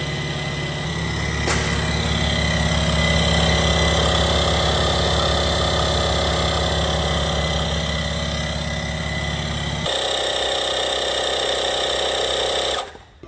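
A battery-operated tire inflator pumps up a Jeep Cherokee SRT tire with a loud, steady buzzing motor drone and rapid mechanical pulsing, continuous for several seconds before a slight shift in pitch and then stopping abruptly.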